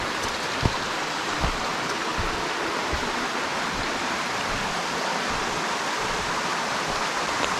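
Water at the Whitney Canyon waterfall pours in a steady, broad rushing wash, moderately faint, with a few brief knocks near the start and no voices.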